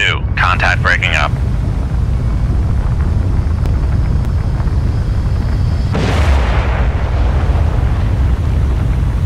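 A ship contact breaking up after a torpedo hit in the submarine game Cold Waters: a steady low rumbling roar under a brief burst of clicks, then a broad crackling surge of breaking noise partway through.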